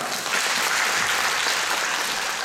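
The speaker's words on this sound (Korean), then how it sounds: "박수 주세요." A large audience at a live stage talk show applauds steadily, a dense wash of clapping that holds at an even level throughout.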